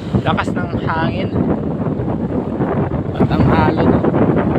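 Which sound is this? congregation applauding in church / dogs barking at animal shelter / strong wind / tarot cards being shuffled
strong wind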